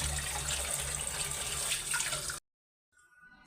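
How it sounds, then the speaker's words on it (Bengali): Fish rinsed by hand under a running kitchen tap while preparing kalibaus fish, a steady close rush of water for over two seconds that cuts off abruptly, followed by faint dripping and handling sounds. "মাছগুলি আমি এখন ভালো করে ধুয়ে নিই।"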